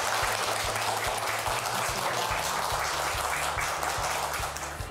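After a lecture on decentralization, the audience gives sustained, even applause, a broad crackle of many hands close by, with a steady low electrical hum running underneath.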